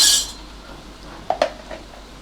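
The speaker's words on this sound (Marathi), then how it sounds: "हे परत सगळं नीट मिक्स करून घेऊया" A spoon stirs brinjal and potato sabji in a pan after jaggery and peanut powder go in, giving a few quick metallic clinks after a brief hiss, close and otherwise quiet.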